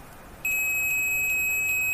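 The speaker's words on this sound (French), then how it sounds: "Normalement, si je mets la bonne plus et moins ensemble," A steady electronic tone from a multimeter continuity test starts abruptly as the positive and negative probes touch and holds, with faint regular pulses over low background hiss.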